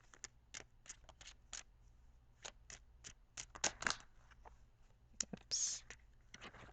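Quiet, repeated soft swishes and riffles of tarot cards being shuffled, in short bursts with brief pauses, close up and without talking.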